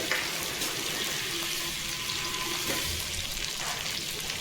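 Ginger, garlic and cloves with onion frying in a pan for egg masala, a steady close hiss and sizzle with faint stirring scrapes throughout, no voices.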